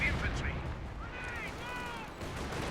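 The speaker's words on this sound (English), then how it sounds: "Dying to pack howitzer fire." Pack howitzer fire in Company of Heroes during a 4v4 battle: a dense, continuous roar of distant shelling and gunfire, with a brief voice and whistling tones partly mixed into the din.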